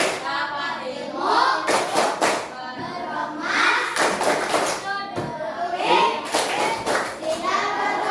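A school class chants together before going home, children's voices in rhythm broken by sharp unison hand claps at regular intervals, close and lively.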